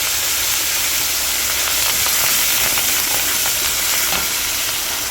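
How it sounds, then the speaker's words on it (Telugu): Asafoetida, dried red chillies and curry leaves fry in hot oil as a tempering for tamarind-leaf dal, giving a loud, steady sizzle with crackling pops throughout and no talking. "చూస్తారు కదా పోపు ఎర్రగా వేగుతుంది"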